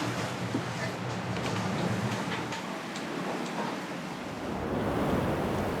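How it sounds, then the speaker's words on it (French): Waves breaking beneath a sailing boat in Antarctic waters at night, a steady broadband wash of surf with wind roar, continuous and fairly loud with faint ticking knocks, no talking. "Les vagues déferlent sous le bateau."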